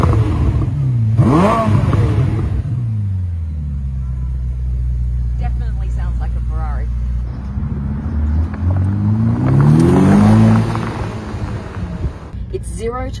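A Ferrari hybrid with three electric motors and a 4-litre twin turbo V8 pulls away, its engine note rising and falling through revs in a loud, close rumble, with a person talking over it.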